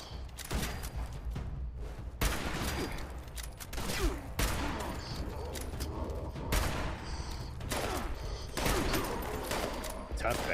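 Video-game gunfire in Fallout 76 at a mining headquarters, with repeated loud bursts of shotgun and weapon fire, mechanical clanks and thuds, and someone talking intermittently over the fight.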